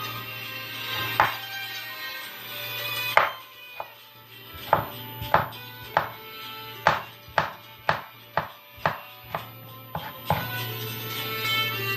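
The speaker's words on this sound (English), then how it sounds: "First I'll be cutting down these cucumbers." A knife slices cucumbers on a board. After a few scattered cuts it settles into a run of about a dozen crisp, evenly spaced chops, close and clear over a low steady hum.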